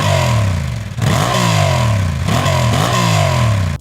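A twin-cylinder motorcycle engine revs up and down several times, a loud, throaty exhaust note rising and falling close by.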